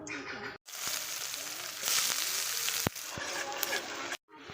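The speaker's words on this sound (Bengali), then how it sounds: "পেঁয়াজটা ভাজা হয়ে গেছে হালকা করে" Chopped onion sizzling in hot oil with bay leaf and dried chilli, a steady close crackle with occasional clinks and scrapes of a utensil stirring the pan.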